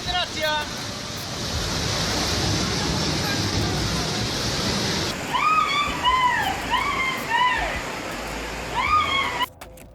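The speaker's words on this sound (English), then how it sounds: "a rushing stream of water followed right behind him" Muddy floodwater rushes and sloshes in a steady, loud roar through a city street, with wind buffeting the microphone and a few high squealing calls breaking through in the second half.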